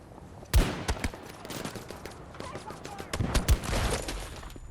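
Gunfire in Battlefield 2042 on PS4, two bursts of rapid shots with explosive impacts and scattered crackling between, loud and close, with a player's voice talking over it.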